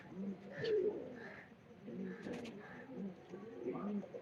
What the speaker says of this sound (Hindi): जबरदस्त हो गया ये कबूतर